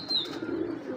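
A Giribaz high-flyer pigeon gives a short low coo close by, a soft throaty murmur with a brief higher note at the start, with no talk.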